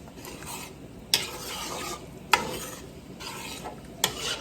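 Spaghetti noodles being mixed with sauce, fat left in, wet stirring and scraping with three sharp clinks of a utensil against the pot spaced a second or so apart, close and moderately loud with no talk.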